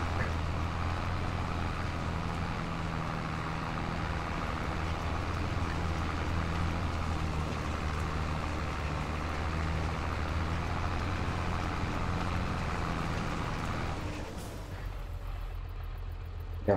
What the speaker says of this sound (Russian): Тянет трактор.